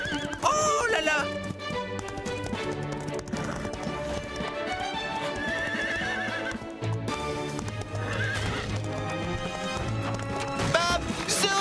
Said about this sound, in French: Où sont mes chevaux de course? Ils sont partis par là.